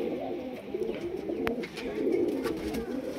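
High flyer and low flyer pigeons in Krishnagar, Nadia coo steadily and softly at close range, their overlapping calls forming a continuous murmur with one brief sharp knock midway.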